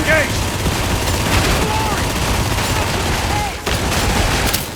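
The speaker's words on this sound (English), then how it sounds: "Have you ever wanted to purge heretics en masse with volleys of blast fire?" Blaster volleys firing in Warhammer 40k Darktide, a dense, continuous barrage of rapid shots layered with rumbling impacts and brief game tones, loud and unbroken for several seconds.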